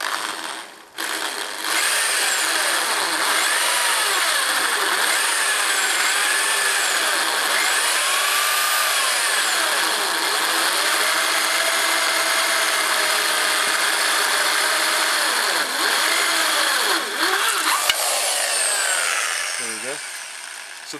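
A power drill whines continuously for a long stretch while drilling a hole for a greenhouse build, its pitch wavering as it bites into material, close and loud, ending with a few short bursts.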